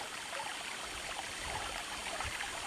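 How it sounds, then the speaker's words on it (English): A small creek flowing through meadows on the way toward Mount Whitney below the Sierra Crest gives a steady, soft, even rushing of water, close by and unbroken, with no voices. "Now we're just walking down this nice pretty little creek."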